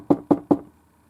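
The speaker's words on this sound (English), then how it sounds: "A vampire knocked on my door." Three firm knocks sound on a door in quick, even succession, close and loud, then there is silence.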